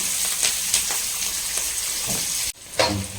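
Onions sautéing with fennel seeds in hot oil for a village-style goat intestine gravy, giving a steady, close sizzle with soft stirring crackles, briefly broken by a short drop near the end before the frying hiss returns.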